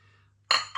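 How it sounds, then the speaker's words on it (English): A plate is set down on top of a bowl with a single sharp ceramic clink, followed a moment later by a smaller second clink, close and alone after near silence. "put a plate on it"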